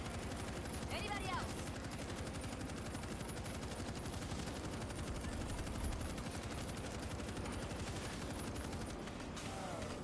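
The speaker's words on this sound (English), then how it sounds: "Actually, I have a stationary machine gun." A stationary machine gun rattles nonstop at a zombie horde in the World War Z game, a dense, steady stream of rapid fire running the whole time at moderate level, with voices mixed in.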